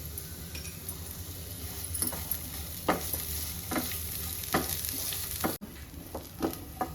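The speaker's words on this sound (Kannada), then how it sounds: "ಸ್ವಲ್ಪ ಎಣ್ಣೆ ಹಾಕ್ಕೊಂಡು ಈರುಳ್ಳಿನ ಹುರ್ಕೊಳ್ಳಿ" Onions frying in oil in a pan for a Konkani-style egg masala: a steady sizzle, with a few sharp clinks and scrapes of stirring spaced through it, close and fairly quiet.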